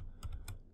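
A few quick keystrokes on a computer keyboard, two or three soft clicks close by while a word is typed into a text editor, with no talk.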